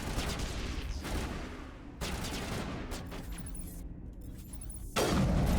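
Gunfire in the Mass Effect video game crackles in dense bursts of rapid shots, loud and close, broken by brief pauses before another heavy volley.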